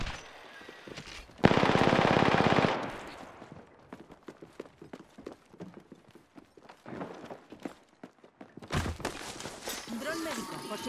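Automatic gunfire in the video game Apex Legends bursts out in a loud sustained rattle lasting about a second, followed by scattered shots and game effects while a player talks.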